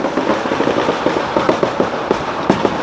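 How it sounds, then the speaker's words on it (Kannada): A string of firecrackers pops in rapid, irregular bursts, sharp crackling snaps going on for the whole stretch at moderate distance, with outdoor noise under it. "ಅಂಟಿಸ್ಬಿಟ್ಟ, ಪಟಾಕಿ ಅನ್ಸೇಬಿಟ್ಟ."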